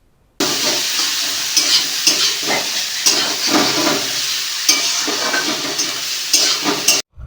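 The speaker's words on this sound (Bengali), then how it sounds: "এবার আগে থেকে কেটে রাখা পেঁয়াজ দিতে হবে এবং পেঁয়াজটাকে ভালো করে ভেজে" Chopped onions frying in oil after bay leaf and dried red chilli, a loud, close, continuous sizzle with rustling scrapes of stirring, no voices, ending abruptly.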